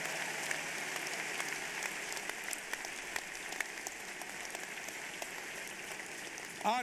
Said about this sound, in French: Come on, give the Lord a big hand